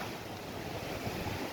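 Soft surf rolling onto a fishing beach, a faint steady wash of waves with light wind noise, heard briefly and alone.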